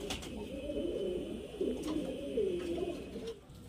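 Giribaz highflyer pigeons coo close by in soft, low, rolling calls that repeat steadily with no one speaking.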